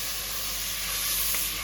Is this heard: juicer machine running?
no